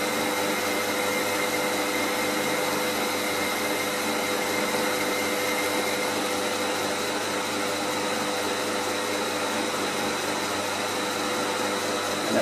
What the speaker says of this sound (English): The lathe can go faster, but it's a bit noisy and the ends are not quite as smooth